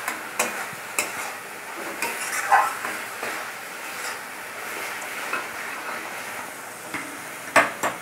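Spice paste for a fish curry frying and being stirred in a pan, with soft sizzling under repeated scraping and clinking of a spatula against the metal, fairly quiet and close.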